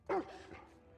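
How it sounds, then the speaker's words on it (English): A single short dog bark, sharp and fairly close, from The Last of Us Part 2, followed by a faint tail of room sound. "Dogs!"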